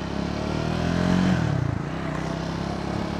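A Triumph Scrambler 400cc motorcycle is ridden with a steady engine drone that climbs in pitch, then dips briefly at a gear change before settling into an even hum, fairly close and with no talking.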